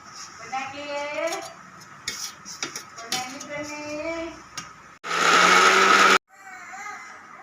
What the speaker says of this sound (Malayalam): തേങ്ങ ഒന്ന് ചെറുതായിട്ടൊന്ന് ഒറ്റ ഒരു ക്രഷ് ചെയ്ത്